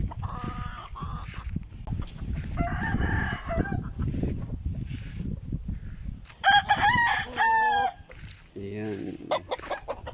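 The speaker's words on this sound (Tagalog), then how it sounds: "Farm ni Otol. Ayan, mga manok ni Otol yan" Roosters crowing and chickens clucking at a poultry farm, several loud crows rising over a busy background of clucking and rustling, with people talking now and then.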